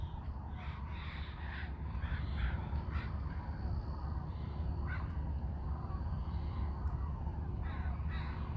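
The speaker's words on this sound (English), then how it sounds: "There's another big flock of sandhill cranes going over" A big flock of sandhill cranes, roughly 1,500 birds, flies over above lingering fog, their rough calls sounding continuously at a distance over a steady low rumble of background noise.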